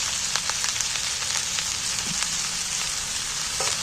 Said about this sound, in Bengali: এইবার সবগুলোকে আমি একসাথে নাড়াচাড়া করে ভেজে নিই